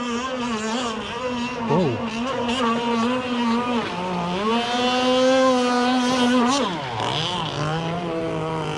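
A Bonzi Enforcer Team Pro R/C boat's small nitro engine revs hard, a loud, close whining buzz climbing and dipping in pitch through several throttle bursts, with a brief exclamation from a man nearby.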